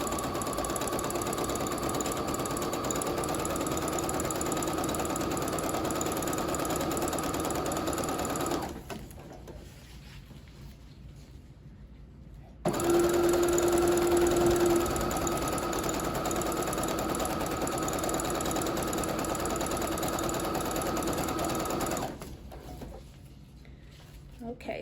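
A sewing machine straight-stitches ribbon onto a ruffle sock with a long, even whir of needle strokes. It pauses briefly, then resumes, with a faint voice now and then under the machine.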